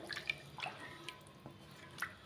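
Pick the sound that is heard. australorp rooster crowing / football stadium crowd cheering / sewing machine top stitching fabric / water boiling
water boiling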